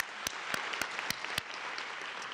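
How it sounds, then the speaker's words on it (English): A small crowd at an award ceremony applauds, a short, moderately loud round of clapping with several sharp individual claps standing out. "you should really receive a big round of applause"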